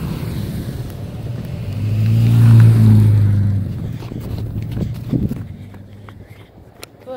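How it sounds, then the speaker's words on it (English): A car rolls past on a busy road near a railroad crossing on a freezing day, the engine and tire rumble swelling to a loud close peak midway and then fading as it moves off, with wind noise throughout. "There's a car."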